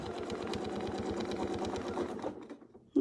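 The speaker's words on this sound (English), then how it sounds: "I'll sew right up to the top" A sewing machine stitches a quilt in a fast, even rhythmic whir that runs steadily close up, then slows and stops near the end.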